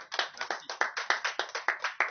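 A small group claps in a rhythmic, unified beat, sharp even claps about every quarter second, fairly close and moderately loud, with no voices, greeting a visiting Senegalese artist at a reception for Katanga actors and artists.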